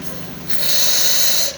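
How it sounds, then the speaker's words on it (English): A short, steady hissing rush starts up and runs for about a second before stopping as hot water jets from the spout of an Izzo Alex Duetto espresso machine, just given a full tune-up. "Test the hot water."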